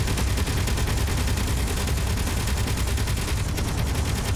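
Twin gun turrets on a spacecraft in a space combat game fire continuously, a dense, loud, rapid stream of shots with no pauses, steady and overwhelming throughout.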